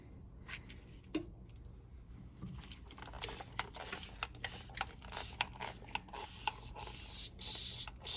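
A hydrogen peroxide solution is sprayed onto comic book pages during restoration. Short, sharp, hissing spray bursts repeat in an uneven rhythm, close and fairly quiet, with small handling clicks in between.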